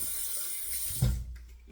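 Water runs steadily from a tap while shaving lather is rinsed off, a close, continuous hiss that briefly swells before thinning out.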